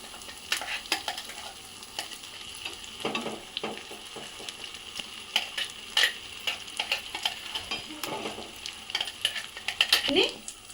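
Masala paste being stirred into stuffed eggplant curry frying in a pan: irregular scraping and clinking strokes over a steady sizzle, fairly close, with no talking.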